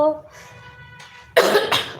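A person talks briefly, then two harsh, loud coughs follow close together, near and clear.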